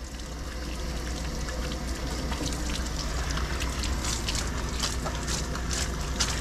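A sprayer nozzle runs a steady stream of water onto a Bouvier's coat while it is groomed, a continuous soft splashing hiss at moderate distance.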